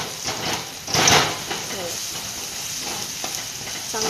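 Onions frying in a pan for dhaba-style whole masoor dal, a steady close sizzle with occasional stirring scrapes throughout.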